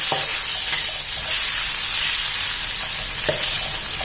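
Fermented soybean paste hitting a hot wok for pad see ew with fresh shrimp gives a loud, steady frying hiss that runs unbroken, close and alone.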